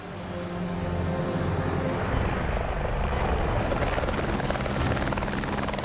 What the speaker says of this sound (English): we had to run helicopter relays from our home base